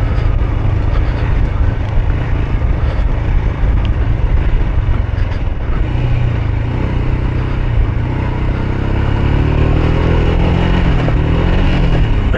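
A Royal Enfield motorcycle engine revs up in second gear on a Smoky Mountain ride, a loud, steady near-field roar with rising pitch across the stretch and wind rumble throughout.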